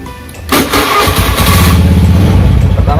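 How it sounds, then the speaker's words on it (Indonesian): An automatic fuel-injected motor scooter engine cranks and catches with a loud burst, then settles into a steady, close-up running idle with a rough, buzzing rhythm. "Pertama, hidupkan motornya"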